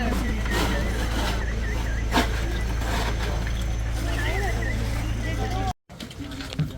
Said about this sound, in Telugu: సో ఇప్పుడే బోట్లోకి ఎక్కాం.